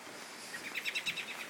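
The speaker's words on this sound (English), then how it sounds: "Oh, lovely birds." Faint birds chirp outdoors near a lake: a quick series of high, thin tweets that grows busier toward the end, quiet and somewhat distant.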